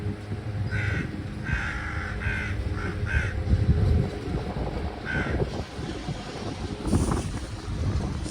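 Crows in NygaardsParken in Bergen caw loudly and repeatedly in ragged bursts over steady outdoor background noise, several harsh calls overlapping in the first seconds and more returning later.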